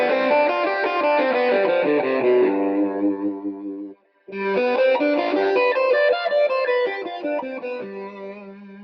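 A distorted electric guitar plays a dominant 11th arpeggio in quick runs, stops for a moment, then plays it again, with some reverb.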